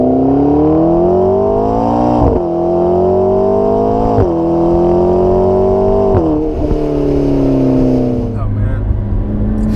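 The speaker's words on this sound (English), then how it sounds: "Once you press the accelerator in this car, it's hold on." A 2016 McLaren 650S Spider sports car engine roars and climbs in pitch through repeated gear shifts, loud and close, with a brief exclamation from someone inside.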